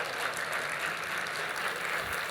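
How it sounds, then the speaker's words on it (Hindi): An audience at a Delhi celebrity interview event claps in a dense, steady wash of applause that continues throughout. "थोड़ा जोरदार तालियां बजाइए"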